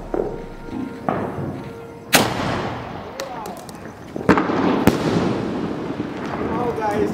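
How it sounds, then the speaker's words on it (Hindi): Mumbai Indians sky shot fireworks go off during a Diwali celebration, with several sharp bangs and whooshing bursts spread over a few seconds, fairly near, amid crackling and people talking in the background. "चलो इसको भी अब ट्राई करते हैं, मुंबई इंडियंस का स्काई शॉट।"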